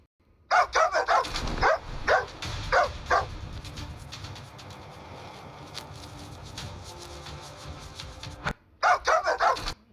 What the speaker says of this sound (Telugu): ఆ కుక్క దాని భాషలో అరుస్తోంది, నేను వచ్చేస్తున్నా అని